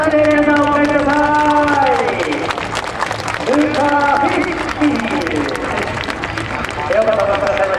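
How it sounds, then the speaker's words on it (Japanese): An audience at a 2008 Motorsport Japan event claps to welcome Honda F1 driver Luca Filippi before the RA108 demo run, a steady wash of applause from a large crowd with an amplified voice speaking over it. "どうぞ大きな拍手で皆さんお迎えください"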